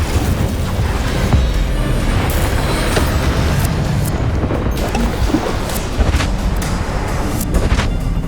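Confringo and Incendio spell blasts roar in Hogwarts Legacy amid dense, continuous game combat, with booming fiery bursts and crashes layered over heavy background noise.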